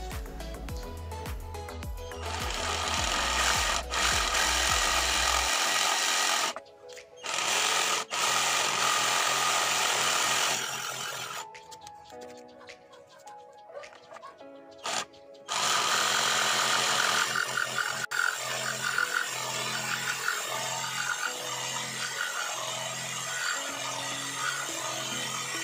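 A Modern M22 cordless jigsaw cuts through a mahogany wood board, a loud, steady buzzing saw run broken by brief pauses and restarts, with the motor pitch shifting as the blade works the hardwood.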